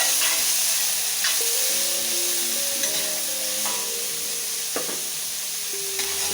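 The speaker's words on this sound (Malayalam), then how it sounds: "അത്യാവശ്യം നല്ലപോലെ ഒന്ന് സോട്ടായി കിട്ടണം" Chicken pieces sautéing in a pan for chicken manchurian, with a steady close sizzle and frying hiss throughout plus occasional stirring scrapes and clinks.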